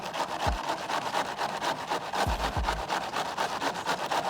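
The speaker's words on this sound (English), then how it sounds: "Some people cut, but I grate." Vegetables, cabbage for homemade coleslaw, grated by hand on a grater: rapid, steady scraping strokes in a rough repeating rhythm, close and moderately loud, with no talking.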